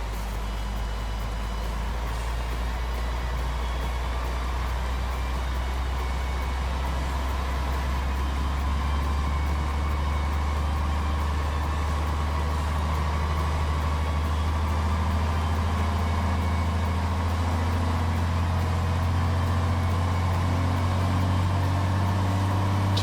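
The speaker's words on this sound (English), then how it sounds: "I'll try and rev it up slowly so you guys can hear it" A truck engine with a DC13 sound mod holds a deep, steady rumble near 1000 RPM in Euro Truck Simulator 2, running continuously and close for over twenty seconds with only a faint rise in level.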